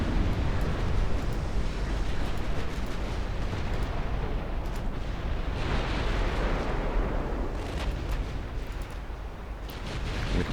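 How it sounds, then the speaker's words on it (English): Torpedo hits exploding on ships in Ultimate Admiral Dreadnoughts: a dense, continuous roar of heavy booms and rumbling blasts, loud and sustained throughout with no pauses. "We're taking torpedo hits now."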